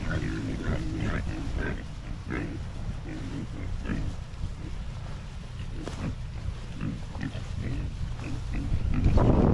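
A herd of fourteen pigs grunts steadily as they run out to pasture, dense overlapping low grunts and snorts at close range, growing slightly louder toward the end, with some voices in the background.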